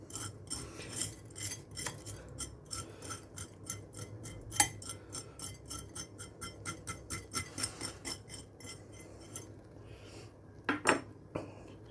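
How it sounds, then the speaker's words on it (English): Knife scraping coarse salt off salted pork belly skin, a quiet series of rapid scratchy strokes with clinks of metal on a tray, close up with no talk. "What we need to do now is scrape this salt off."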